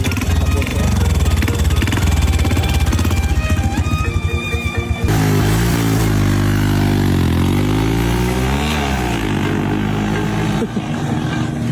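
A stock Q-Star motorcycle engine runs loud and steady nearby during a performance test, with harmonic engine tones climbing and wavering as it revs after about five seconds.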